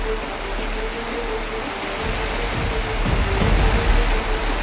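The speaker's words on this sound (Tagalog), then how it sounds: "Lakas ng ulan." Heavy rain pours steadily at a campsite in Tanay during stormy weather, a dense, loud, continuous hiss with no breaks.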